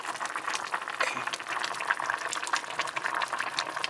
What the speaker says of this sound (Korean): 그 레시피를 따라하고 있습니다. 지금 계속 끓이고 있고요.